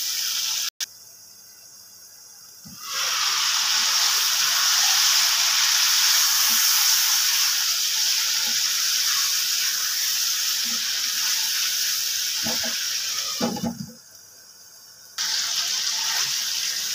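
Small beef pieces sauté in a hot pan with a loud, steady broadband sizzle that starts abruptly, holds for about ten seconds, then drops away before briefly returning.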